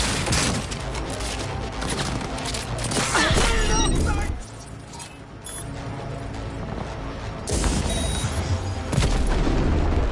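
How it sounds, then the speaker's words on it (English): Bombs blast amid heavy gunfire in the open-world shooter Cyberpunk 2077, with loud booming bursts and rattling shots through most of the stretch, a brief lull in the middle, and a voice talking over the chaos. "do not throw those bombs at me"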